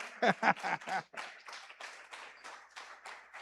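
A brief burst of clapping from a church congregation, loud at first and then thinning into scattered, rhythmic claps.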